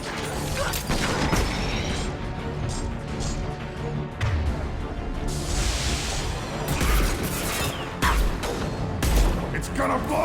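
Gunfire crackles in bursts through a firefight in the video game Mass Effect 2, mixed with mechanical clanks, impacts and game music, with voices talking over the action.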